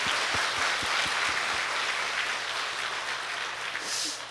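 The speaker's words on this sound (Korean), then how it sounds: "박수 한번 쳐주시죠." A church congregation claps during a Sunday service, with a few sharp individual claps opening into steady, moderately distant applause that thins toward the end.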